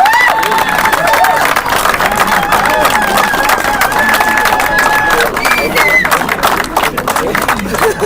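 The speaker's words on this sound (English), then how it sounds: "give a big round of applause." A crowd at a cricket league finals trophy ceremony cheers and claps continuously, loud and close, with voices mixed into the sustained roar.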